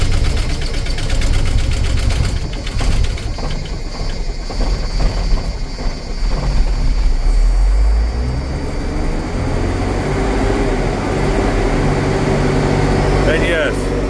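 A Freightliner truck diesel engine running hard at full throttle, a loud continuous rough clatter and drone close by, with a voice speaking over it.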